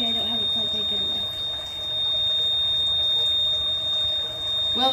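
A buzzer wired into a squishy dough circuit gives off a steady, thin, high electronic tone that runs the whole time. Faint background noise and a few light handling sounds sit beneath it.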